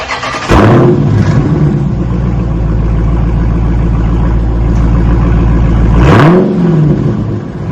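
A 2023 Dodge Charger Scat Pack with a mid-muffler delete revs loudly twice with a deep, rumbling exhaust, idling rough and throaty in between, close by.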